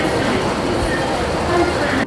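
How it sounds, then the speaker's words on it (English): A Hong Kong airport express train rumbles at a station, a steady broad rolling roar of the carriages with faint overlapping speech in the background. "And the train's down these escalators right here."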